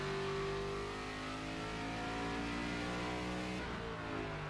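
A race car engine in the NASCAR 25 video game holds a steady, loud drone with layered harmonic tones, then the pitch shifts briefly near the end as it downshifts.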